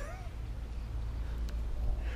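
A pet cat meows nearby, a short plaintive call or two standing out over a low background hum, with a person's voice faintly present.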